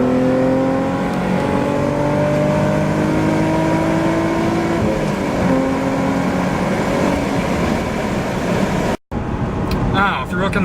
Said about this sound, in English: you're going to downshift it, rev it to about